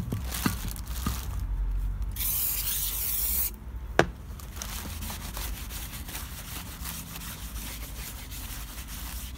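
Brake cleaner hisses from an aerosol can onto new brake discs for a Mercedes Sprinter van, a loud burst of spray lasting about a second and a half amid rubbing and handling noises, followed by a sharp knock.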